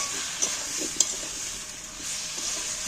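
Taro pieces coated in spice paste are sautéed in a pan, with soft steady sizzling under a few scraping stirs of a spatula and a couple of sharper knocks against the pan.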